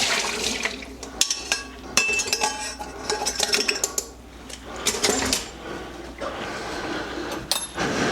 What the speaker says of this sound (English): And finally, we have our sweet potatoes. We've been letting those cook for a little bit. We're going to take and drain those out.